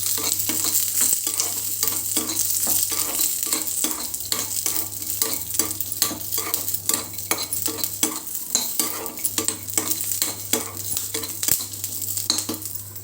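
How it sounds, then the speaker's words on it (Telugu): Ginger, garlic and roasted gram dal fry in a hot pan with a steady sizzle, stirred continuously by a spatula scraping and clinking against the metal, close and busy throughout. "ఇందులో కొంచెం అల్లం, 2 వెల్లుల్లి రెమ్మలు వేసుకొని ఇవి ఫ్రై చేసుకుందాం."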